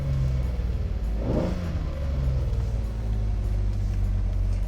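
Lamborghini Countach LP400S low-body car driving through a U-turn, its engine rumbling steadily and swelling briefly partway through, heard from inside the car with constant road and engine noise.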